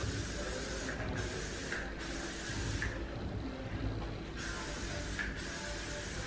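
Spray bursts from a can of Banana Boat SPF 30 sunscreen, several close hissing sprays in short uneven pulses with brief pauses, no talking.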